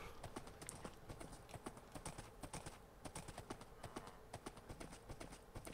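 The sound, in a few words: horse hooves clip-clopping in Minecraft video game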